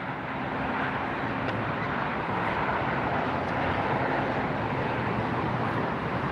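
An Iberia airliner at LAX airport gives off a steady, broad roar of jet engines that holds at an even level, with no voices over it.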